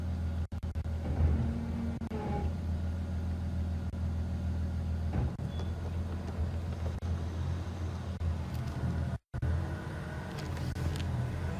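An engine hums low and steady as a safari vehicle pulls slowly into a thick patch of bush on a game drive, a continuous moderate drone with faint clicks and brief dropouts.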